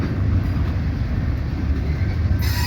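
A BNSF maintenance-of-way train hauling railroad bridge components rolls past in Nebraska, a steady loud rumble of rail cars with continuous low wheel noise throughout and no voices.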